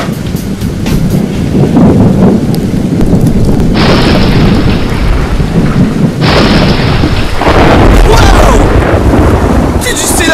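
Thunder rolls through a storm, a deep continuous rumble with rain-like hiss and brief louder cracks, fairly loud and steady throughout.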